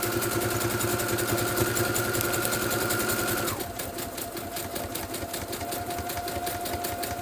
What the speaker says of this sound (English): I'm stitching them.